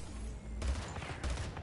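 A gunshot in the shooter game Splitgate: heavy, punchy low-end blasts twice in quick succession over steady game background, with no talking.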